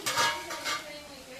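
A spoon clinks and scrapes against a cooking pot while chili powder goes into an egg and dried fish curry, giving a few quick metallic taps and rattles up close, without talk.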